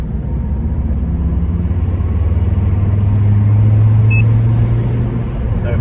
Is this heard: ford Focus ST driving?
yes